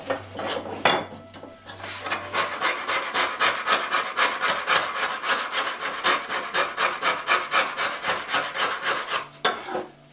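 Steady back-and-forth scraping on the steel cap iron of a Union transitional hand plane blade, a rapid rhythmic rasp of metal being cleaned, close and continuous with a brief pause near the start and end.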